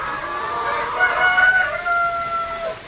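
Dekalb Brown laying hens cluck and call steadily inside their pen, a close, continuous chicken chatter with a few higher drawn-out notes over a low background hum.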